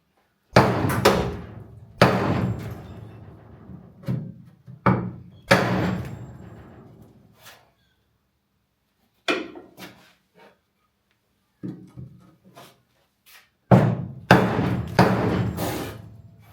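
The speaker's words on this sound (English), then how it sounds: "I just swapped up the tools, gone to the heavy hammer on the short pine line." Heavy hammer blows strike a rusted HG car's boot body panel in irregular bursts, several quick hits in a row, then pauses, loud and close with a dull thudding ring.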